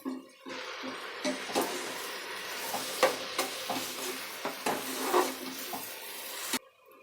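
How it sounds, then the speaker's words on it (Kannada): Tomatoes frying in a pan while being stirred for a sprouted horse gram rice bath, a steady close sizzle with repeated scraping spoon strokes throughout, ending abruptly near the close. "ಸ್ವಲ್ಪ ಫ್ರೈ ಆಗಿದೆ ಇವಾಗ ನಾನು ಟೊಮೆಟೊ ಹಾಕೋತಾ ಇದ್ದೀನಿ"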